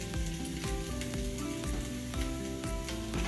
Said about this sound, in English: it's sizzling because the pan is hot, but the heat is off